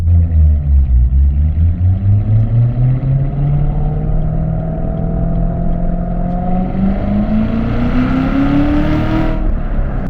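A supercharged 2017 Corvette Z06 with a 650 horsepower engine revs and pulls from inside the cabin, a loud low exhaust drone rising steadily in pitch with a whining supercharger climbing above it, with no talking.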